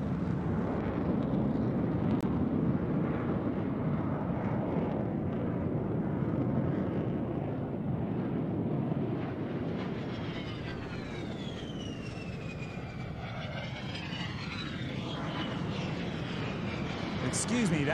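A-10 jet flying past at the Sun 'n Fun 2021 airshow, a steady roaring engine rush that swells and shifts in pitch as it passes, heard from a distance with a crowd murmur underneath.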